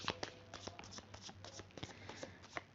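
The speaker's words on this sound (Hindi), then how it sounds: "I will shuffle the cards few times" Tarot-style cards shuffled by hand for a reading, giving a quiet, close run of soft riffling flutters and light slaps repeating over a few seconds with no talking.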